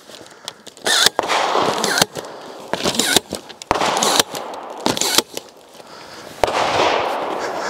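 Gunshots from DMARMS Grand Power GP-R15 rifles fired at IDPA targets: about nine sharp, loud cracks in irregular bursts, some in quick pairs, with a noisy echoing tail between shots.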